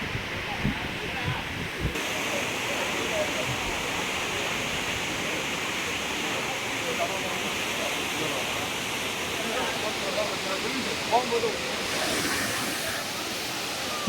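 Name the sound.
waterfall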